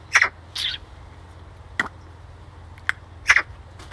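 A bird calls in several sharp, loud, high chirps spaced irregularly across a few seconds, close by over a quiet low hum.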